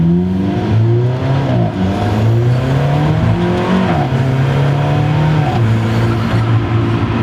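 An Alfa Romeo 4C sports car engine revs loudly and continuously, the pitch climbing and dropping through several gear changes, with no talking.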